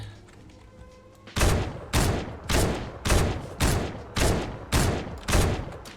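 Gunfire from a gun in the Fortnite video game: eight evenly spaced loud shots at a steady rhythm, each with a short decaying tail, close and alone without talk.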